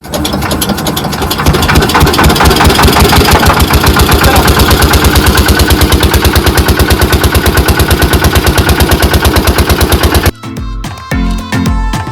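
A small boat engine, started by hand crank, sputters to life and settles into a loud, rapid, steady chugging that runs for several seconds before cutting off abruptly.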